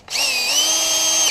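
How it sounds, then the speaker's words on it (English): A cordless power drill spinning a soap-lubricated screw while coating it in a bar of soap, one steady high whine lasting over a second, close and loud. "I'm just putting them on the drill"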